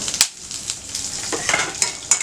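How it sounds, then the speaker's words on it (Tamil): Chopped onion sautéing with asafoetida and tamarind in a pan for ridge gourd chutney: a soft, steady sizzle broken by several sharp spatula scrapes and clicks. "இதை வந்து நல்லா வதக்கி விட்டுடலாம்."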